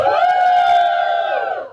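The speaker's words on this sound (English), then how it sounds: "Can I get a cheer from the bi and pan folks?" A comedy gig audience at an LGBT history month show lets out a single sustained cheer, loud and close, with whoops and yells that hold for over a second before fading.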